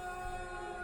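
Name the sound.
siren from the video game Observation Duty 8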